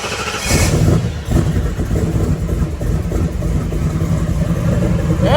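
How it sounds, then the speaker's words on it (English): A twin-turbo HEMI engine fed by an Aeromotive fuel pump rumbles loudly and steadily at close range just after a cold start, with throttle blips rising and falling over the running engine. "Might have to crack the throttle just a little bit."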